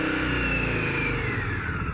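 Indian Scout motorcycle engine revving with a loud, steady V-twin roar through a separate exhaust outlet for each cylinder, dense low pulsing throughout, close up and without talk.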